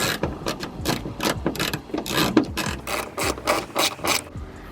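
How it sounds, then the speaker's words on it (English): A ratchet wrench backs out 10mm bolts holding the rear window wiper motor on a Honda Integra DC5, making rapid, loud, close clicking bursts that repeat in quick runs with no talking. "you need to take these 3 10mm bolts out to get the motor"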